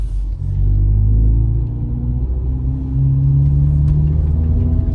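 A non-turbo 2011 Subaru Impreza fitted with a Pedal Commander throttle controller accelerates, its engine giving a steady, loud low rumble that rises in pitch through the gears, heard from inside the car with no talk.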